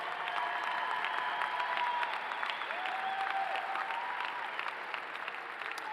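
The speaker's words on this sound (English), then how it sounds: "So now give your families and friends a really big round of applause" A large commencement crowd applauds families and friends, a broad, continuous roar of clapping that stays full and even for several seconds, with light cheering mixed in.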